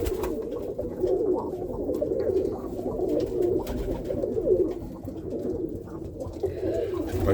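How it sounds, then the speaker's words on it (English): Roller pigeons coo steadily inside a loft, a soft continuous murmur of many overlapping low calls, fairly close and unbroken throughout. "I go through these birds and look at them right now"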